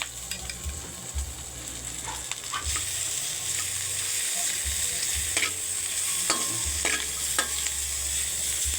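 Chopped garlic and green onions fry in a hot pan with a steady, close sizzle, while a utensil stirs and scrapes now and then; no talking.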